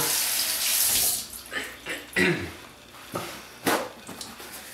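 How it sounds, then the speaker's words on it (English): Tap water runs steadily into a kitchen sink as raw egg residue is rinsed off fingers, a continuous loud hiss and splash with small shifts in the flow, and no voices. "Rinse your fingers off of raw egg residue."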